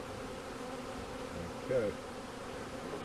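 Honeybees buzz steadily throughout a beehive inspection ahead of winter, a dense, continuous hum close to the hive, with a brief louder swell partway through and a person saying a word quietly.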